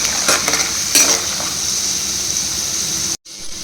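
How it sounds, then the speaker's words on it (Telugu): Tempering seeds fry in hot oil in a pan with a steady, bright sizzle, stirred with a utensil scraping and clinking a few times, close up, cutting off abruptly near the end. "పోపు అంతా గోల్డెన్ బ్రౌన్ కలర్ వచ్చే వరకు వేయించుకోవాలండి."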